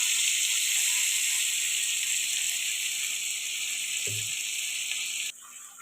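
Spices sizzling in hot oil in a pan after prawns have been fried, a steady bright hiss that holds throughout, with a brief clatter near the end before the sizzle drops off.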